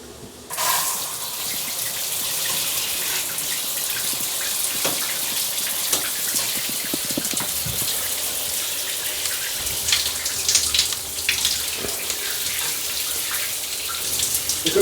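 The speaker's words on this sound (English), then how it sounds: "And just over here, we're going to turn the water on." Water sprays from a newly fitted bar shower, switching on abruptly and then running as a steady hiss with scattered splashes and drips.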